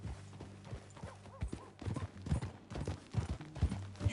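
Horse hooves clip-clop in a steady, uneven rhythm in the video game Red Dead Redemption 2, fairly quiet, with soft thuds and faint movement between the beats.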